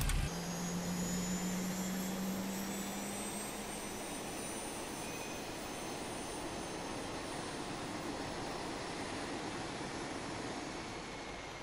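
A Boeing 737-800 jet engine spools up during start in a flight simulator, a broad steady roar with a rising whine that holds as a continuous drone.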